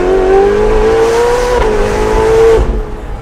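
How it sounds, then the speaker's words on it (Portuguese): Ferrari racing engine revving hard and loud up close, a steady high-pitched wail climbing in pitch under sustained throttle for about two and a half seconds, then backing off. "sendo também um motor de competição, ele está sempre pedindo para ser acelerado"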